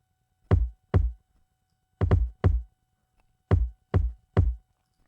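Layered trap kick drums strike together in short punchy groups of two and three, each hit deep and snappy with a quick decay, loud and isolated against silence.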